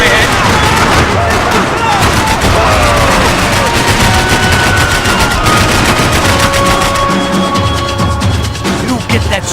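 Dense, loud gunfire rattles nonstop in a firefight in the video game Max Payne 3, rapid automatic bursts layered with sharp shots and whizzing bullets, while voices shout over the din.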